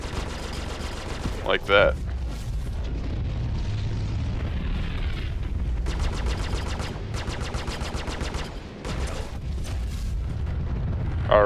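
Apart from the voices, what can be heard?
gunfire in video game Star Citizen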